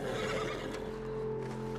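A horse neighs in Red Dead Redemption 2, a whinny standing out clearly over steady game ambience, with faint hoof clip-clop underneath.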